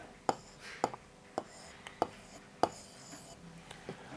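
Pen strokes writing an Urdu word by hand, a series of short scratchy taps at a slow, even rhythm, faint and close, over a quiet room hiss.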